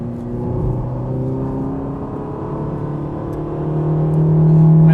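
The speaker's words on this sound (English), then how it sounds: "So the car definitely has a great sounding V8." A Ferrari Roma's 3.9 liter V8 engine rumbles and climbs steadily in pitch as it revs toward about 5,000 RPM, heard from inside the car with no talking.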